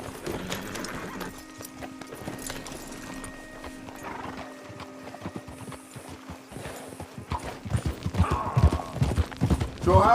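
Horses trotting in Red Dead Redemption 2, steady clip-clop of hooves over a low game ambience, with a whinny and busier hoof noise and movement building louder toward the end.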